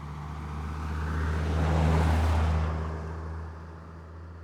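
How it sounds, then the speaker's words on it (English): A loud truck or car passes by outside as a broad roaring whoosh that swells to a peak and fades away over a few seconds, with a steady low hum beneath. "sorry, a really loud truck or car just went by."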